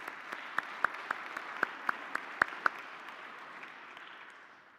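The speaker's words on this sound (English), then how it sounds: "Let's give them another round of applause for that." A church congregation applauding, a soft, distant wash of many hands with a few sharper individual claps standing out near the start, then fading away toward the end.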